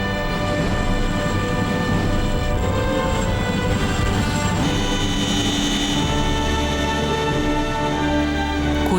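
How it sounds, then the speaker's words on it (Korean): Transport helicopters lift off together for a special forces airborne exercise, a loud, steady blend of rotor and turbine noise that holds throughout with no voices. "드디어 수송 헬기 세대가 하늘로 치솟아 오릅니다."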